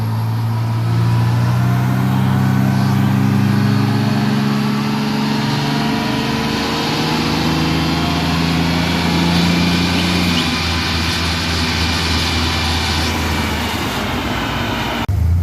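Chevrolet S10 pickup with a 4.3 engine, automatic transmission, cold air kit and throttle body spacer, running on a dyno; a loud, steady engine roar holds for the whole stretch with shifting pitch, no talk.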